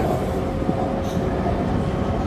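A Bangkok Skytrain electric train runs with a loud, steady rumble and whir, close and continuous, with no voices over it.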